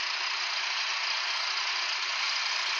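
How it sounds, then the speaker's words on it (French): Engine of a 12-metre MAN Lions City A21 city bus idling very loudly, a constant, even hissing roar close by with no variation, heard alone. "Alors le moteur est très bruyant"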